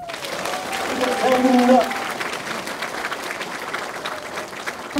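Audience applause at a Korean political party event for the People's Party, a crowd clapping broadly under a voice chanting and speaking over it, swelling briefly then continuing steadily.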